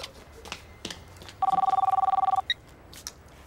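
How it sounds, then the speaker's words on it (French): A telephone rings with a rapid electronic trill, a single burst of about a second followed by a short chirp, fairly close and clear with no talking over it. "C'est peut-être lui qui m'appelle?"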